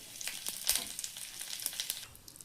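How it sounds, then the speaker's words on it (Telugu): Curry leaves crackle softly in a pan with urad and chana dal, a faint close sizzle with scattered small pops and spits throughout. "ఇప్పుడు ఇందులోకి కరివేపాకు వేసుకొని ఫ్రై చేసుకోవాలి"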